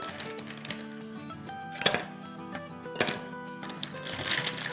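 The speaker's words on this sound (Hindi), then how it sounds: "इसमें आइस डालेंगे।" Ice cubes dropping into a glass for pink lemonade, several bright clinks and clatters, two sharper knocks standing out over a quiet background.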